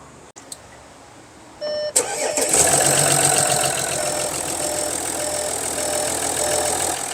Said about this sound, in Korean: 그래서 한번 시동 한번 걸어 보겠습니다.